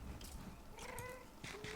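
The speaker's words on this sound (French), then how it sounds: "Oh, ça c'était un chat." A cat meows faintly in a Minecraft game, a short wavering cry over a noisy, muffled background.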